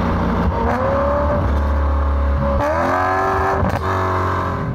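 A BMW 1M with a V8 engine revs hard up through the gears with a throaty roar, close and loud, rising in pitch between shifts.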